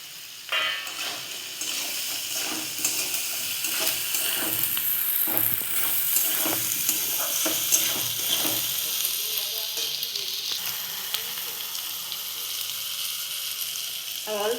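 Green chillies sizzle and fry steadily in a pan for a vegetarian banana-stem thor ghonto, with stirring scrapes and bursts of hiss running throughout at close range.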